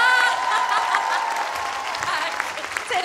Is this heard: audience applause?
yes